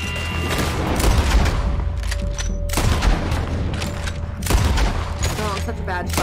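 Gunfire rings out in Red Dead Redemption: a few loud, sharp shots burst out at irregular intervals over a busy background of game sound.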